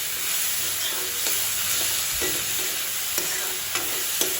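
Red lentils and potatoes fry in a pan with turmeric and salt, a continuous loud sizzle with scraping stirring strokes and occasional sharp spoon knocks against the pan.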